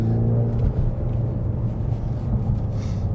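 A 2020 Ford Mustang EcoBoost 2.3-litre engine rumbles and revs steadily up close on a small circuit, a continuous low drone with a rising tone as it accelerates.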